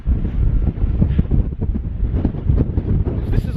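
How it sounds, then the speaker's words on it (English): Strong gusting wind from Hurricane Ophelia in Ireland batters the microphone, a continuous loud roaring buffet that surges and eases without a break. "the wind's actually pretty bad out here."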